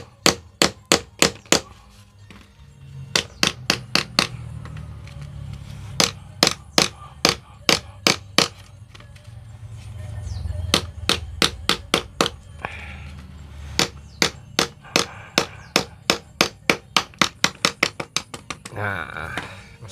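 Hammer blows on metal struck back and forth in quick repeated bursts of sharp, ringing clangs, with brief pauses between runs and low background rumble.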